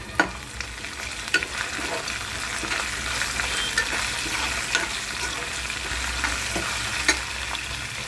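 Curry leaves fry for veg pulao, a steady close crackling sizzle in hot oil, punctuated by occasional sharp spoon clinks against the pan as it is stirred, fairly quiet and without talk.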